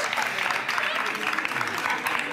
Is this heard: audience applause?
yes